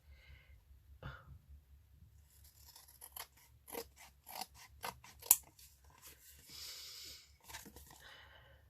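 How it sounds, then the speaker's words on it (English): Scissors trimming paper and washi tape while making a handmade die-cut journal, close and fairly quiet: a run of crisp snips with short pauses between them, plus a longer rasping cut near the end. "Much to trim off on this one."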